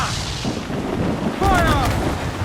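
Ship's cannons fire in the pirate game Assassin's Creed 4: Black Flag, heavy rumbling booms rolling over one another amid battle noise, with shouted crew voices mixed in.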